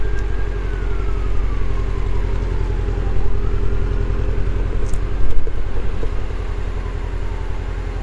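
A car being driven down and back up a residential driveway after lowering it on its rims, a low steady engine rumble throughout with a faint whine, no talk.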